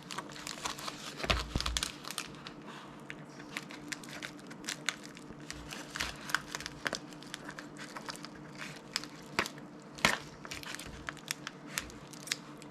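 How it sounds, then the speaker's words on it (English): Scissors snip and crinkle through a shipping package at a desk, with close crackling plastic and paper rustle, repeated sharp cuts and handling noise for several seconds, no talking. "let's cut this thing open here"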